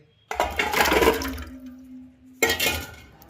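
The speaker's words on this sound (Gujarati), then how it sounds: "આમળાનું જ્યુસ કાઢ્યા પહેલાં બધા આંબળાને પાણીથી સરસ ધોઈ નાખવાના" Water splashes and sloshes as amla are rinsed by hand, a broad wet rush that pauses briefly and then resumes.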